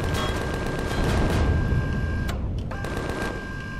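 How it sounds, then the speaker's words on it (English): Gunfire from a patrol group in the survival game Empyrion, a dense burst of rapid shots and booms over background rumble, with a brief lull before more firing resumes. "Who's shooting? You are."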